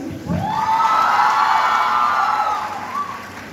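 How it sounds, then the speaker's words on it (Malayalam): A packed college crowd at St Teresa's College cheers at a film promotion event, a loud sustained collective shout swelling and then fading over a few seconds, with little distinct clapping. "ലൈഫിൽ ആദ്യമായിട്ടാണ് ഇത്രയും പേര് അങ്ങനെ വന്നിരിക്കുമ്പോൾ കൈയടിക്കുന്നത്."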